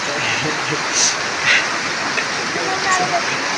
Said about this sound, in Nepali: अहिले चाहिँ खोला बगेर